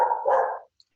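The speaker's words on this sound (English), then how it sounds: "Hopefully you guys can hear over all the barking." A single short, muffled dog bark sounds nearby indoors, followed by quiet.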